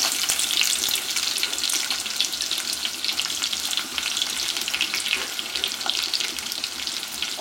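Chopped onions, about a cup, fry in hot oil where dried loitta shutki (Bombay duck) was cooked, a steady close broadband sizzle with faint crackles throughout and no talking.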